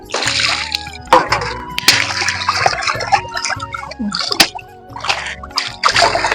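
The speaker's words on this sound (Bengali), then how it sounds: "থাকায় মাছটা ধুলে ভালো ধোয়া হয়" Fish being rinsed by hand in water on a plate, with repeated splashes and sloshing bursts up close, separated by brief pauses and trickles.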